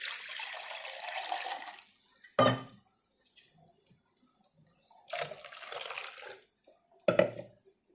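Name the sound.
water being added to blended tomatoes for rasam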